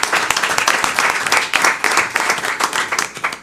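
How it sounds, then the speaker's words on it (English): An audience at a Lake County school board meeting gives a round of applause for Coach Porch, a steady, dense wash of many hands clapping close by and fairly loud, continuing evenly with no talk over it. "let's give him a round of applause"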